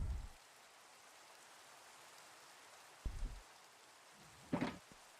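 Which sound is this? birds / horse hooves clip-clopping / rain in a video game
rain in a video game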